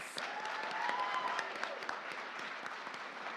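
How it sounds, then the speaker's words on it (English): A pageant audience gives contestants a round of applause, steady dense clapping at moderate level across a hall with faint scattered voices. "can we just give these contestants another amazing round of applause?"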